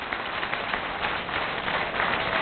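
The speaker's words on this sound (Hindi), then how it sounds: "आप जोरदार तालियां बजा दें" An audience at a Hindi poetry recital (kavi sammelan) breaks into loud, sustained applause, a dense crowd of clapping hands continuing steadily throughout.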